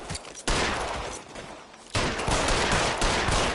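Video game gunfire from L.A. Noire: rapid bursts of shots fill the clip, with a sharp fresh volley starting about half a second in and another loud burst near the two-second mark, dense and continuous without talk.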